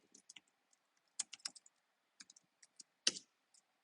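Keys clatter on a computer keyboard in short, quiet, irregular bursts of clicks separated by brief pauses while a name is typed into code.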